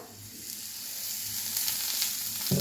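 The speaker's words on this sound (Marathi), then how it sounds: "या पद्धतीने हा भाजून घ्यायचा आहे टोमॅटो" Chopped tomato roasting in a little oil in a pan, a continuous soft sizzle and hiss that swells slightly louder toward the end, with a faint knock at the close and no talking.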